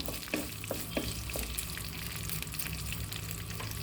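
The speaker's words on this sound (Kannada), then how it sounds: "ಇದೆಲ್ಲ ಸ್ವಲ್ಪ ಚೆನ್ನಾಗಿ ಒಂದು ಸ್ವಲ್ಪ ಫ್ರೈ ಆಗಲಿ" A few small chopped green chillies fry quietly in a pan, a soft sizzle with a handful of crisp pops and stirring taps early on, continuing as an even crackle.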